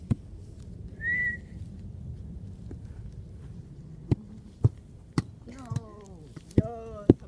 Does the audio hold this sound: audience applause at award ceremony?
no